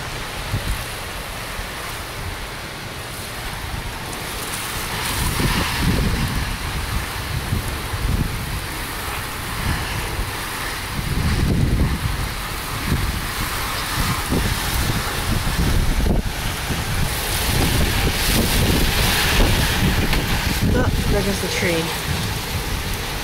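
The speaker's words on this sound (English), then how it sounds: "This is really windy." Strong wind roars continuously, buffeting the microphone in heavy rumbling gusts that rise and fall without a break.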